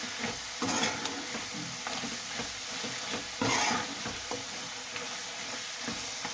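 Chili powder and spices for a tripe curry stir and fry steadily in hot oil, a constant close sizzle broken by louder scraping strokes of the spoon against the pan.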